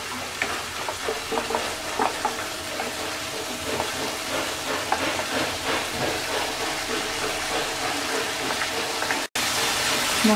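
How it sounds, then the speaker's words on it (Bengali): Masala sautéing in a pan for rohu fish curry, a steady close sizzle and frying hiss with stirring scrapes running continuously, a brief cut near the end. "মশলাটাকে 2-3 মিনিট কষিয়ে নেব।"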